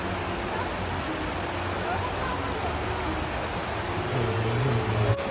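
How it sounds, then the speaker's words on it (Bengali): Shannon Falls pours down with a constant rushing roar of water feeding a river, steady and broadband, with faint voices now and then beneath it. "ওই ঝর্ণাটার জলটা এখানে আসছে নদী দিয়ে"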